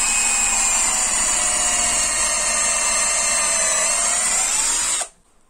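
A cordless drill-driver drills out a broken screw at high speed. Its motor whines in a steady, loud, high-pitched tone for about five seconds, then cuts off abruptly into near silence.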